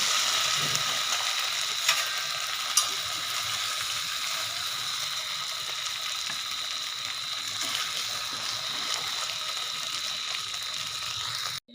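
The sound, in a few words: frying taro (ghati kochu) pieces in oil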